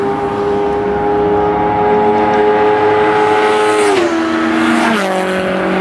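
A string of racing cars sweeps close past the pit wall at the Jarama circuit, engines droning loudly with falling pitch as each one passes nearby.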